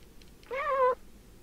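A cat in the video game Fragile Dreams gives one short, clear meow, heard alone over a faint, steady background hum.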